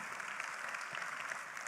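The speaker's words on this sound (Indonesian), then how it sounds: "tepuk tangan yang meriah buat Riway Internasional" An audience at a leadership training event applauds for Riway International, a brief, even roar of clapping from a crowd, fairly distant and steady.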